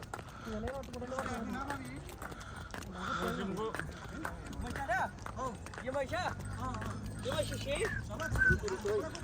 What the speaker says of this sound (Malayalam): അപ്പോ നമ്മളിതാ കുതിരപ്പുറത്ത് നമ്മളെല്ലാവരും കൂടിയിട്ട് മുന്നോട്ട് പോയിക്കൊണ്ടിരിക്കുകയാണ്